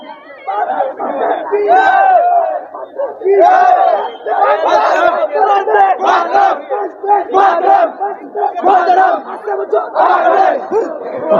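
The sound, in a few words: crowd chanting slogans at Baba Ramdev temple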